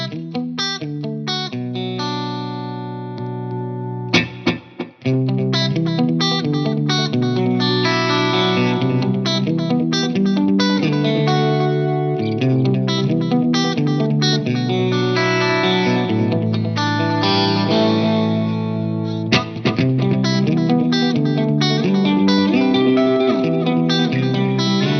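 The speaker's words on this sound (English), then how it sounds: "So just a great sounding tape delay" Guitar played through a Catalinbread tape delay pedal, strummed chords and picked notes smeared into warm, wobbling echoes, loud and continuous with a brief pause near the start.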